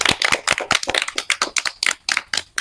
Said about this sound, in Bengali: সবাই একটু হাততালি দাও জোরে প্রতিযোগীদের জন্য